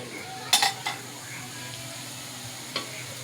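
Chicken goes into browned onions in a karahi with a soft background sizzle, marked by a few sharp metallic clatters of a stirring utensil against the pan.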